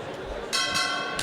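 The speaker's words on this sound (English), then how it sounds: "As the opening bell sounds off, got Dilan Miranda in the white trunks with" A boxing ring's opening bell at a super bantamweight bout rings in a few bright, sustained clangs that overlap, loud against a murmuring arena background.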